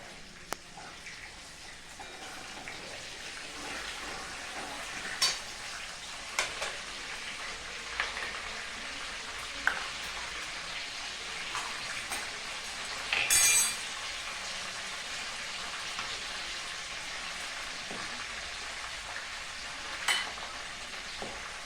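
Sugar fries in hot oil for a raw mango pickle, giving a soft, continuous sizzle and hiss broken by occasional spoon clinks and stirring scrapes against the pan, fairly quiet and steady with no voices.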